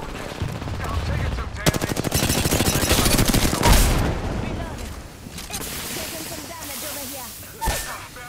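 Video game gunfire rattles in sustained rapid automatic bursts, loud and close, then scattered shots and a final crack, with voices talking over the action.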